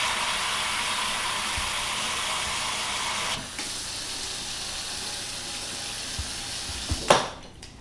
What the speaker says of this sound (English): So this is hot water that I'm putting in here.